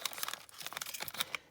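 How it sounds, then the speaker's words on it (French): Packages being opened by hand, with dense bursts of crinkling and tearing wrapping close up, quiet and continuous with no voices. "je vais ouvrir les paquets."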